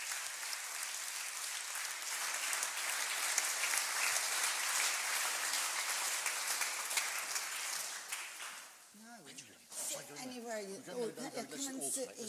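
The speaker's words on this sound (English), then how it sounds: "So please give a round of applause to our speakers." An audience at a panel talk on misinformation and statistics gives the speakers a long, dense round of applause that fades after about eight seconds, and then a speaker starts talking.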